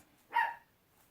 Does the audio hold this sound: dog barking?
yes